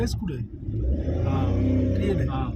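A car engine is revved lightly during a driving lesson, the low rumble swelling and holding under an instructor's talk from inside the car.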